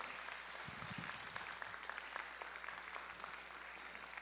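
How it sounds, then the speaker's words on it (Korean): A church congregation at a Sunday service gives soft, even applause, faint and distant in a large room, sustained without a break. "그럼 박수로."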